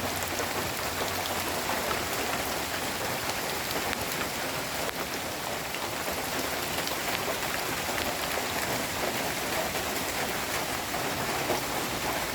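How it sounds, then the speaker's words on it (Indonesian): Light rain falling steadily on a mountain hiking trail, a constant soft patter on surfaces with no voices. "Mendungnya itu semakin tebal dan hujannya masih rintik-rintik seperti ini."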